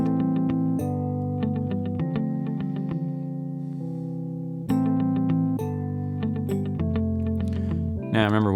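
A software bell instrument in a Studio One music arrangement chimes in clear repeating struck notes over sustained synth chords, bright and fairly loud, with a swelling sweep at the close.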